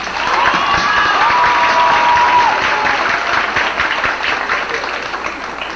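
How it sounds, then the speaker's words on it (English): A large crowd at a high school graduation ceremony claps steadily in sustained applause, with a few cheers and whoops rising over it before it slowly tapers. "giving them a round of applause"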